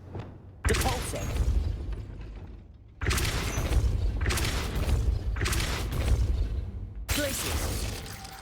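Depulso spell in Hogwarts Legacy, four heavy booming blasts with crashing, shattering debris, each hitting abruptly and ringing out before the next.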